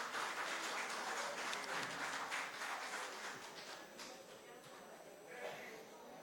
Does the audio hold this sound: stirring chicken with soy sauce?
no